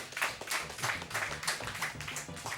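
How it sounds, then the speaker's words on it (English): Several people clapping in a short burst of steady, moderately loud rhythmic applause, fairly close. "We can clap for that, please."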